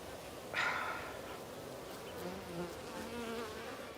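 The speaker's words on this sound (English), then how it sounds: "I was playing with bees on the traps." Bees buzzing close around bait traps in Colombian wilderness, a steady insect hum with one louder buzzing pass near the start, fairly faint overall.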